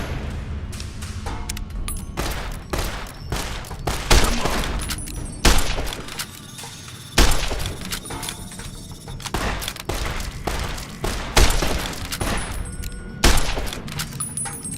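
Gunfire in the video game Fallout New Vegas, loud repeated bursts and booming shots at irregular intervals over a continuous game soundscape, with no voices.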